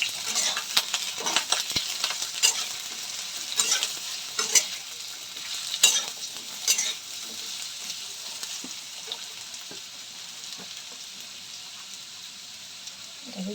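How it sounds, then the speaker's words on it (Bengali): Cut potatoes crackle in hot oil in a kadai, with a bright continuous sizzle and sharp spatula scrapes and taps while stirring, fading to a gentler hiss toward the end. "এখন এটার মধ্যে যে আলুগুলা কাইটা রাখছিলাম এটি দিয়ে এলাম"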